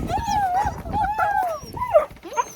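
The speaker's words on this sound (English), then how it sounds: "let the puppies out" Puppies named Pebbles and Annie whimper and yip in high, wavering cries, several overlapping calls close by, with faint shuffling beneath.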